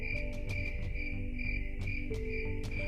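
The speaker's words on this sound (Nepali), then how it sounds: "घर वरिपरि किरा फटेङ्ग्राहरू आफ्नो भाषामा कराइरहेको मेरो कानमा गुन्जिरहन्थ्यो।" Crickets chirping around a house at night, a steady high trill with regular pulsing bursts and a low droning background, continuous and fairly close with no voices.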